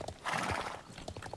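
A horse in the Star Stable video game whinnies over a few clip-clopping hoof steps, close and clear, with the neigh swelling early and hoofbeats continuing after.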